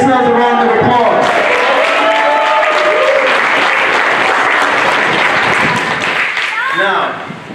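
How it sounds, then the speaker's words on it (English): Loud audience applause at a Shavuot gathering, a close, full crowd clapping with some cheering and voices mixed in over the opening seconds, then tapering off at the end. "Give yourselves a round of applause"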